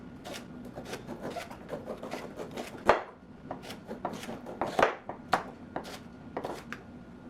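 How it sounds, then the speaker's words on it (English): A knife slices rhubarb stalks on a cutting board in a rapid, uneven run of close, crisp chops, with a few louder strikes standing out. "So with the rhubarb, what we're going to do is just slice it up."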